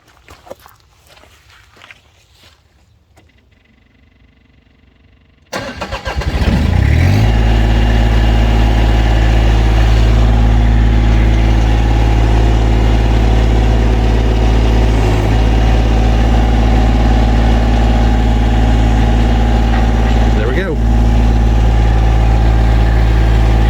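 A Massey Ferguson GC1725MB tractor's heavy diesel engine cranks and roars to life, then settles into a loud, steady idle that rumbles on without pause.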